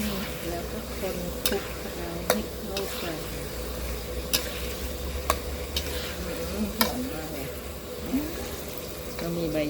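Thai eggplant stir-fries in a pan, a steady close sizzle broken by regular scraping clicks of a utensil, with someone talking over the cooking.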